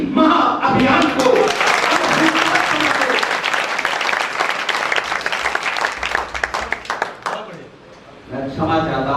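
Audience at a spiritual gathering applauds after a recited patriotic poem, a loud, dense burst of clapping that thins and fades, with voices audible near the end.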